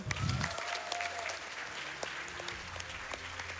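Steady applause from a speedrun marathon audience at Awesome Games Done Quick 2020 fills the whole stretch, dense clapping with a brief louder swell at the start.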